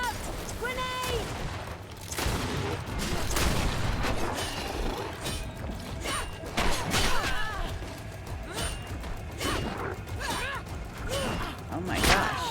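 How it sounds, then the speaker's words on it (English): Grenade explosion amid combat in GreedFall, with heavy booms and thuds, crashing impacts and scattered shots in a dense battle din, while voices speak over the chaos. "Watch out! Grenade!"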